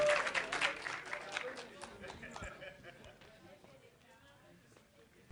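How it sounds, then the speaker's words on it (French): Audience clapping welcomes an MC onto the stage at a French spoken-word evening, a fairly loud burst that thins and fades over a few seconds, with voices mixed in. "Ensemble, accueillons MC sur vos acclamations, s'il vous plaît"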